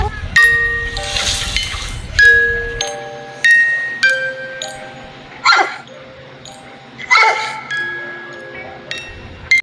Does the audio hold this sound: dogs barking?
yes